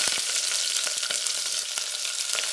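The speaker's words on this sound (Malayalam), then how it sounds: "എണ്ണ ചൂടാകുമ്പോൾ 1/2 ടീസ്പൂൺ കടുക് ചേർക്കാം." Mustard seeds and halved shallots frying in hot coconut oil give a steady, loud sizzle with sharp pops and crackles scattered throughout, with no talking.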